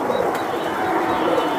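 Silver giribaz pigeons make a steady, close cooing murmur with faint chirps throughout. The pen is noisy and no clear voices are heard.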